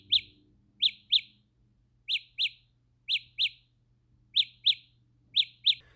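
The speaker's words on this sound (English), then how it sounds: "You can even make your buds chirp like a bird if you lose them." Samsung Galaxy Buds+ earbuds give off a bird-like locator chirp, short high double tweets repeating about every second, clear and alone over a faint low hum.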